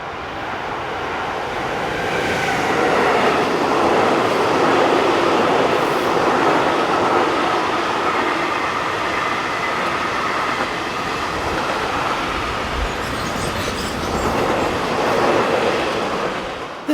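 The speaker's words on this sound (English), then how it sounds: "It's 185347 that we see next, as it heads this southbound freight bound for Nuremberg off into the night." A class 185 electric locomotive hauls a southbound freight train toward Nuremberg at night, a steady, loud rumble of wagons rolling past for the whole stretch, with faint wheel clatter and a swell of noise near the end.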